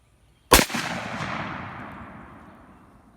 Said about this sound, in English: I gotta shoot it one time, William.